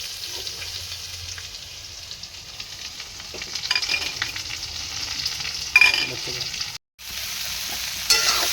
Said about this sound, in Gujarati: શાક વઘારી દીધી છે ભીંડાની